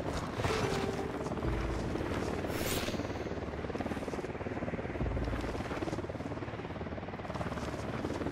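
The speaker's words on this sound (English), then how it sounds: "We got a chopper coming in." A helicopter in the video game Ghost Recon Wildlands approaches, its steady rotor buzz and thrum filling the scene at moderate level, with brief louder bursts of game noise over it.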